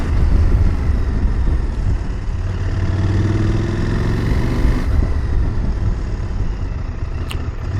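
A nearly new CFMOTO 1000 MTX motorcycle with 60 km on it is ridden gently during a rear brake test, its engine droning close by as the pitch slides down under steady wind rush.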